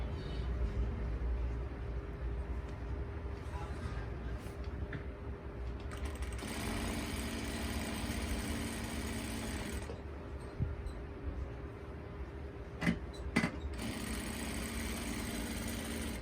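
A sewing machine runs in steady bursts as it stitches piping onto the slit of a kameez, its mechanical whir starting and stopping close by with brief pauses between runs.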